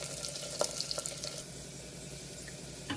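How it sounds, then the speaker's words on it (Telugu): Chopped onions and garlic fry in oil for a Telugu fenugreek-leaf dal tempering. A soft, even sizzle runs throughout, with a few light clinks near the start. "ఇది కొంచెం గోల్డెన్ కలర్ వచ్చే వరకు ఎంచుకున్నాము, ఫ్రై చేద్దాం."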